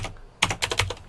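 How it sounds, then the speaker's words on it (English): Keys on a computer keyboard are struck in a quick run of about five close, crisp clicks, alone with no voice over them. "I'm just going to type this"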